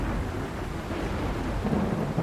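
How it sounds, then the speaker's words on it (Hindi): Heavy cartoon rain mixed with rumbling thunder, a dense steady wash of noise with a deep low roll throughout, moderately loud and without voices. "बाहर तो बहुत तेज बारिश हो रही है"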